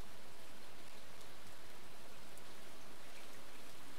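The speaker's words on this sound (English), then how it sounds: "Oh, it's raining." Steady, dense rain hiss from a Dragon Quest Builders game scene, an even broadband wash of falling rain with no voices, holding constant throughout.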